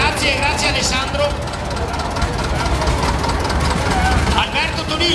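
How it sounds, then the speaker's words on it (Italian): A vintage Güldner tractor engine runs at a parade of historic tractors during a 2017 polenta festival, a steady, fairly loud mechanical drone that continues throughout beneath crowd noise and voices. "guida il trattore di Ginetto Brunato, un modello Güldner"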